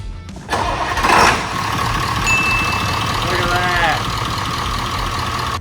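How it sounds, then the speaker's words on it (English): An engine cranks and catches after a missing nut is replaced, then settles into a steady close idle with a brief whine partway through. "Bet the engine starts now."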